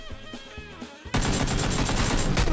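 Loud, sustained burst of gunfire from a gun emptied in PUBG, erupting suddenly after a quieter stretch and continuing as rapid, dense shots to the end.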